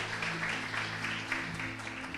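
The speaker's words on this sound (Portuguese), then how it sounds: "pode aplaudir o nome do Senhor" A church congregation applauds during a worship service, a steady spread of many hands clapping under a faint sustained musical drone, moderately quiet and continuous throughout.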